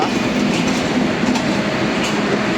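A loud, close express train, the Jahanabad Express at Khulna on its inaugural run, runs on the tracks with a continuous rumble and rhythmic clatter of wheels, no voices.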